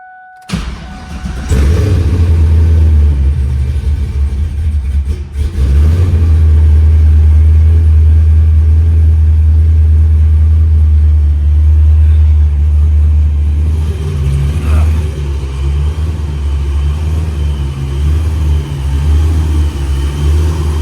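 Car fitted with a 4L80 transmission cranks and fires, then settles into a loud, deep rumbling idle with blips of revving, close and continuous for about twenty seconds.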